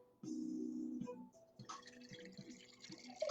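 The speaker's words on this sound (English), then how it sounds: "Pour some in here." Homemade apple juice pours from a juicer into a container, giving a steady liquid stream for about a second, then softer intermittent trickles and drips.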